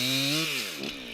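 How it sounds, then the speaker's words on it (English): Chainsaw cutting rural weeds, its engine whining at high pitch then dropping as it bites in, loud and close with no talking. "Attacking these pests with the chainsaw isn't the only tool in Doc's shed"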